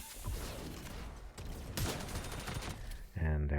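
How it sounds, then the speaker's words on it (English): Cluster grenades exploding in the mobile brawler game Super Mecha Champions, dense rapid crackling blasts like gunfire rolling together, ending in a louder heavy burst. "after the first hit, it spreads into smaller smaller grenades"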